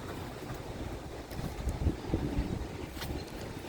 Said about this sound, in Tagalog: Mahangin lang siya.